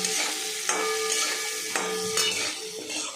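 Potatoes with salt and turmeric fry in a pan, a continuous sizzle punctuated by several sharp clinks and scrapes of a spatula against the metal as they are stirred.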